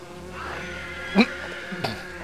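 Wasps buzzing around a nest in the LEGO Lord of the Rings video game, a faint droning insect hum with two short, sharp bursts over a quiet game backdrop.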